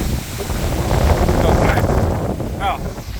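Strong gusts from Tropical Storm Debby in northern Vermont buffet a handheld microphone outdoors, producing a loud, continuous roaring rumble that swells and eases across the clip, with a brief voice near the end.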